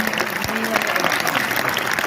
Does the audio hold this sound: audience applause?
yes